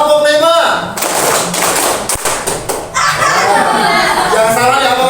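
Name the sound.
rhythmic hand clapping, five claps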